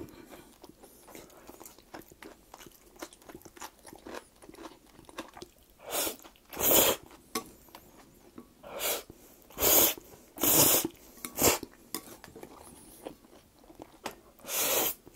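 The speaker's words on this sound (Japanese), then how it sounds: "このね、太めの麺ね、歯応えもあってすごく美味しいですね。" Crunchy chewing of thick, firm Fujinomiya yakisoba noodles made with pork cracklings, a series of close, loud irregular bites and chews in a quiet room with no talking.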